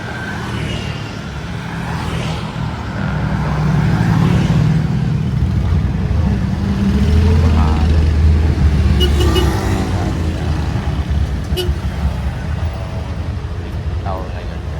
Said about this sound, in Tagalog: Yan, daming motor.